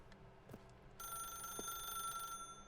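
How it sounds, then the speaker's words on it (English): A telephone in the video game The Stanley Parable: Ultra Deluxe rings with a bright, steady electronic bell for about a second and a half, fairly quiet against a low room hum, with a couple of faint clicks before it starts. "Like every time the phone rings."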